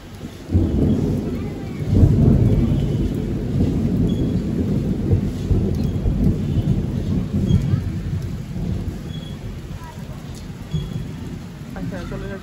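A monsoon thunderstorm with a loud rumble of thunder rolling through steady heavy rain, the low roar swelling early and then fading slowly as the rain keeps hissing.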